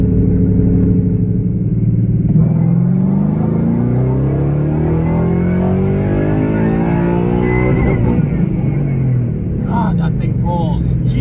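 Car engine running on E85 fuel, revving hard in a long pull from 2,500 to 7,500 RPM, pitch sweeping steadily upward with loud continuous rumble and a brief shift-like break near the end.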